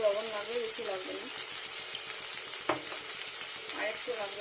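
Egg curry masala sizzling and frying in a pan with turmeric and salt, a steady crackling hiss with a sharp clatter of stirring near the middle and a voice talking over it.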